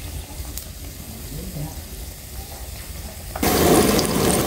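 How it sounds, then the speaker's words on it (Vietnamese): Steady hiss of battered jackfruit deep-frying in oil, swelling suddenly louder near the end as more goes into the pan, with faint Vietnamese talk underneath. "Đây còn này còn chiên mẻ nữa nha."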